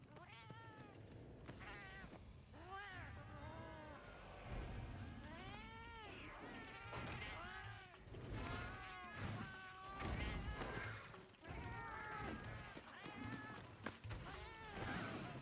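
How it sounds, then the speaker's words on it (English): Several cats meow and caterwaul in the Monster Hunter Wilds video game, a string of loud, drawn-out wailing calls overlapping one another, with thuds and scattered game sounds beneath. "Well, now here's a way to scare a bunch of cats."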